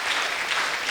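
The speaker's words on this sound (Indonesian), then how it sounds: "Yang percaya berikan tepuk tangan buat Yesus." A brief, dense burst of congregational applause during a lively church worship service, continuous and fairly loud, with no gaps.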